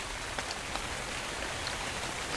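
Steady rainfall in the ARK: Scorched Earth video game, a dense even patter of drops on surfaces that continues without break, moderately loud and alone.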